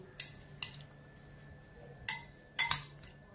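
Alu kabli ingredients being mixed in a bowl, producing a handful of sharp, separate metal-on-bowl clinks and taps spaced irregularly over a quiet background, close up.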